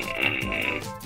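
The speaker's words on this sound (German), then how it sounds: "keiner kann so schön rülpsen wie Slimy." A toy zombie horror dog figure gives a single low, drawn-out, gurgling burp, close and fairly loud.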